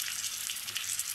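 Ginger paste frying in hot oil for a beef and cabbage dish, giving a steady, close hiss of sizzling that runs unbroken through the short moment.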